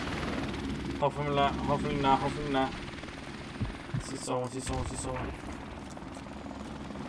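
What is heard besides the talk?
helicopter in video game Call of Duty Remastered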